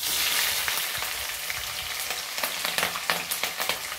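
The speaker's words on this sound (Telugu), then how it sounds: "ఆవాలు, జీలకర్ర, కల్యామాకు వేసిన, పచ్చిమిర్చి వేసుకున్నాం." Mustard seeds, cumin, curry leaves and green chilies fry in hot oil, a steady close sizzle with scattered crackling pops that grow sharper and more frequent toward the end.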